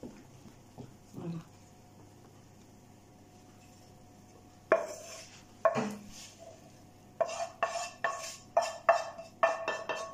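A spoon stirs cooked red onion into a savoury cake batter in a bowl, making soft wet scrapes and clinks that start sparse and become a steady rhythmic series of strokes in the second half.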